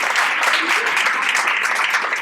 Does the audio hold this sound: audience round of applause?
yes